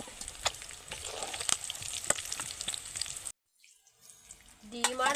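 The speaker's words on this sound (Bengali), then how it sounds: "ডিমটাকেও ঠিক সেরকম কালার করে ভেজে নেব" Eggs fry in hot oil in a pan over high to medium heat, a close steady sizzle with crackling pops, cutting out abruptly partway through before a brief scrape and fresh sizzle.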